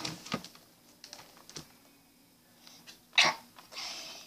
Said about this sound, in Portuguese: Desculpa, gente, eu espirrei.